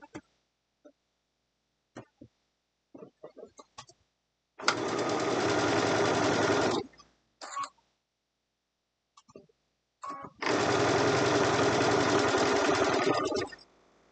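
A sewing machine stitches a braided table runner block. It runs in two loud, even bursts of about two and three seconds each, separated by quiet gaps with scattered clicks and handling noises.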